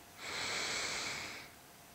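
A slow nasal inhale during an advanced kriya breathing exercise, with root and abdominal locks engaged, heard as one steady airy breath rising and fading over about a second, close and soft, with no talking.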